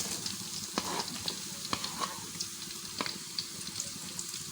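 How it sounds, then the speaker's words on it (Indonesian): Shallots sautéing in a pan for a green chili dried-shrimp sambal give a steady, soft sizzle with occasional light scrapes of stirring, fairly close and without any talk. "kita tumis dulu bawangnya sampai harum."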